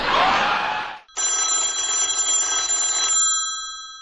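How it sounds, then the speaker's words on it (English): A cell phone rings loudly and close by with a steady electronic bell-like tone that holds for about two seconds after a burst of noise, then cuts off. "Like, how do I answer the cell phone?"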